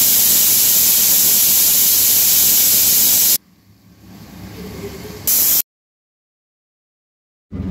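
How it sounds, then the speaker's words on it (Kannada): A pressure cooker steams on a medium flame while cooking ragi mudde and dal, giving a loud, harsh hiss that runs for a few seconds, then cuts to near silence with a brief burst and later returns. "ಮೀಡಿಯಂ ಫ್ಲೇಮಲ್ಲಿ 2 ರಿಂದ 3 ವಿಸಿಲು ಕೂಗಿಸ್ಕೋಬೇಕು"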